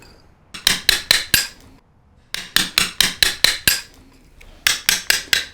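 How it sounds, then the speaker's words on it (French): A sculptor works a stone block with flat carving chisels, smoothing away the marks left by toothed chisels. Crisp metallic taps come in three quick bursts of four to six close, even strikes separated by short pauses, with no talking. "je prends mes couteaux pleins pour enlever les traces laissées par les couteaux à dents."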